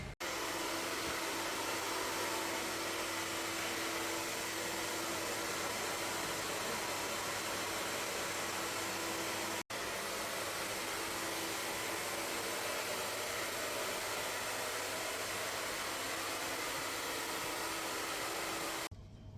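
A Brazilian blowout hair machine in a hospital salon gives off a steady, loud broadband blowing hiss, running continuously with only a brief dropout midway and cutting off at the end.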